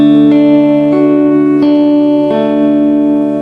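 An electric guitar with reverb and distortion rings out a chord, and single plucked notes join it one after another at a slow, even pace, loud and sustained.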